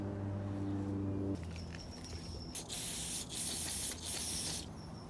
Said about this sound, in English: Grab some brake cleaner and start cleaning these up.